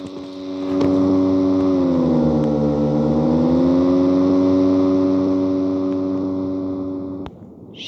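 A motorcycle engine in the video game PUBG Mobile hums loudly and steadily nearby, its pitch dipping and rising slightly before the sound cuts off abruptly near the end.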